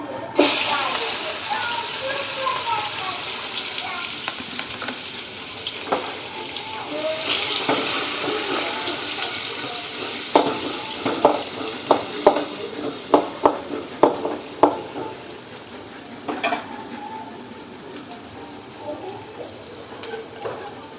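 Onion frying in hot oil with curry leaves over high heat, a loud hiss that surges as the onion goes into the pan, then bursts of crackling and stirring clatter, with a voice speaking over parts of it.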